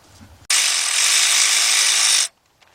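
A ratchet wrench spins loose a water pump bolt on a Chevrolet Trailblazer engine, one continuous loud, fast buzzing ratchet run of about two seconds, close up, with quiet shop background before and after.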